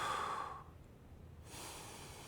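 A person takes a slow breath in and then breathes out, soft airy rushes close to the listener separated by a brief quiet pause.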